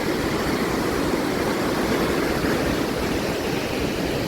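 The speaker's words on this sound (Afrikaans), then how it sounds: "hierso kan jy sien hoe raas die Pienaars rivier soos hy hier oor die stroomversnellings gaan" The Pienaars River near Northam roars over rocky rapids in a loud, constant, broadband rush of whitewater that fills the air without pause, with no voices.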